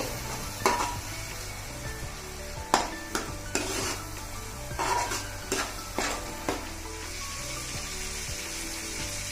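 A ground paste fries in a pan for Bommidaya pulusu, an eel fish curry, with a steady close sizzle broken by repeated sharp metal scrapes and knocks of a spoon stirring.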